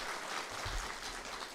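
A church congregation applauds during a Sunday sermon, producing a dense, continuous wash of clapping that sounds soft and somewhat distant.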